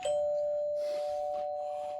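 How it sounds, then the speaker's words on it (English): A doorbell chimes once with a sustained ringing tone that decays slowly over two seconds, clear and fairly loud, with faint rustling behind it. "who's that at the door? Why, look, it's Metal Jonas."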